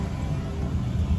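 A car idling close by with a steady low engine rumble, a vehicle pulling up and settling to a stop, with no talk over it.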